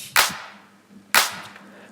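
Two sharp drum clap hits about a second apart, each followed by a compressed reverb tail that fades quickly into near silence.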